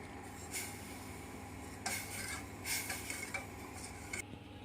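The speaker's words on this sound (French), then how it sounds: "Et on continue à touiller." A spoon or whisk stirs chocolate cream with cocoa in a bowl, giving soft, faint scraping and clinking strokes in an irregular rhythm, close by with no talk.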